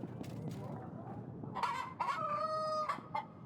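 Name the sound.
magical rooster crowing in video game Yes Your Grace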